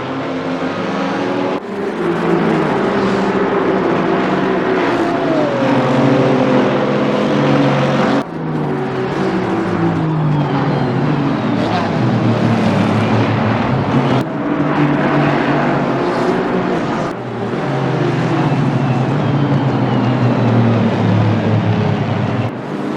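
GT4 race cars in a sim racing video game roar continuously, engines climbing through rising revs and abruptly dropping at gear shifts, loud and close from start to finish.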